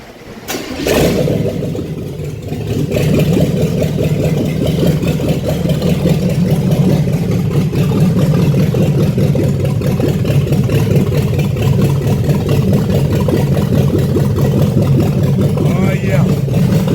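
Cadillac Coupe DeVille engine cranking briefly, then catching and settling into a loud, steady idle with a deep rumble that runs on without pause, close by, with a voice over it.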